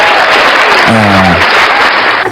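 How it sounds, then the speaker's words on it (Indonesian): Audience applause fills the whole clip as dense, loud clapping, with a brief voice rising out of it partway through. "Tepuk tangan untuk Yesus yang baik hati"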